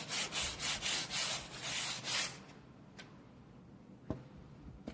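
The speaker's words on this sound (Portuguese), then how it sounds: "Agora aqui eu vou terminar de lixar desse lado e do outro também." Hand sanding of a clay roof tile, about ten quick rhythmic rasping strokes close by, then the scraping stops, leaving quiet room tone with a few faint knocks and clicks.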